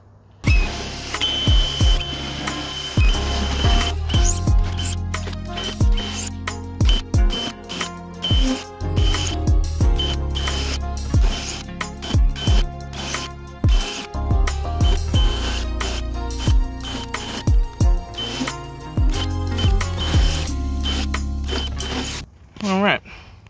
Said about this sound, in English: All right, let's cut some welds.